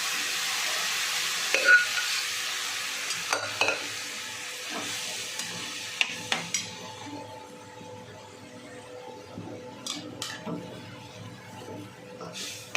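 Boiled soaked chickpeas stirred into a hot pan for usal, a soft sizzle that fades under repeated spoon scrapes and clinks against the pan, close and fairly quiet.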